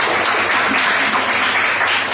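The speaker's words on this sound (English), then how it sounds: "give a big round of applause." A Toastmasters club audience gives a round of applause, dense and loud many-handed clapping that fills the whole moment without pause, no voices over it.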